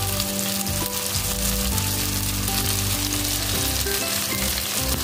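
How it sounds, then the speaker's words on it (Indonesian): Curly red chilies drop into a squid stir-fry with sweet soy sauce, setting off a loud, steady sizzle and frying crackle that runs throughout with no talking. "Masukkan cabe merah keritingnya."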